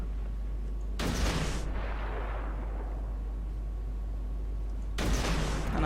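Warship secondary battery guns firing in the naval combat game World of Warships, two loud booming bursts about four seconds apart, each trailing into a rumbling decay over a steady low hum.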